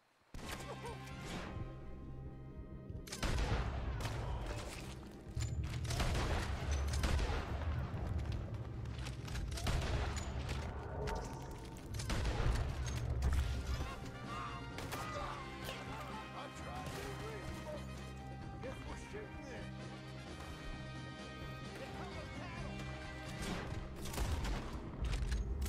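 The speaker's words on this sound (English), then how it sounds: "Just shoot him." Gunfire in a Western-style shootout, a dense fusillade of crashing shots and booms running almost continuously over a music bed and raised voices.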